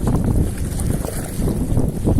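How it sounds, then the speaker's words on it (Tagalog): Strong wind buffets a small fishing boat on open water, a steady broadband rush with gusty swells close to the microphone, no talk. "Lakas ng hangin ngayon dito."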